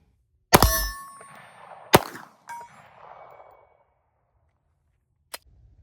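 Bullets strike a small 6-inch steel gong target, giving two sharp metallic clangs with ringing decay, a smaller follow-up ping, and a faint distant hit near the end.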